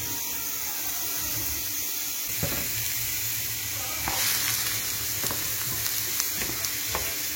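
Onions fry in sunflower oil in a second pan, giving a continuous close, crackling sizzle with occasional sharper pops and spatter bursts across the whole stretch.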